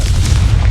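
A single deep, rumbling blast from the Confringo exploding spell in Hogwarts Legacy, loud and close, sustained as a low boom across the whole moment.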